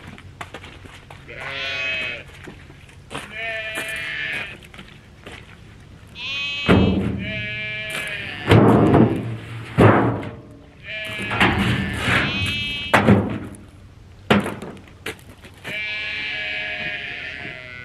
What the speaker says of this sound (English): those sheep are bothering me this morning too